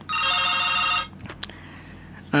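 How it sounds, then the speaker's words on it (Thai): A telephone rings in one loud, continuous electronic trill lasting about a second, then stops, leaving a quiet room with small clicks and knocks. "มีโทรศัพท์มานะขอรับโทรศัพท์ก่อน"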